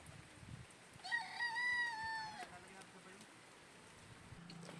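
Cockerel crows once loudly and clearly, a long drawn-out call with breaks in it, nearby amid faint background noise, followed by soft low clucks and a quiet voice at the end.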